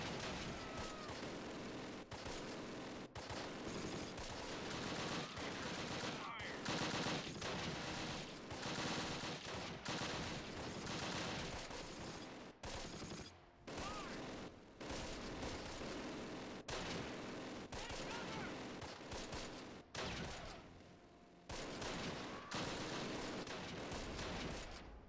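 Artillery and mortar strikes in the World War II strategy game Close Combat: Wacht Am Rhein, a dense, continuous barrage of booming blasts and rattling gunfire with brief gaps, quiet in overall level.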